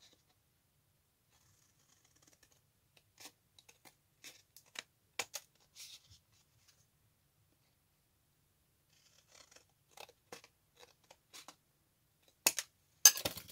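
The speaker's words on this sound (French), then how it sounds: "une paire de ciseaux, je coupe" Scissors snipping through a paper card base, a series of quiet, crisp cuts in short clusters with pauses between, close and alone in near silence, ending with a louder rustle of handled paper.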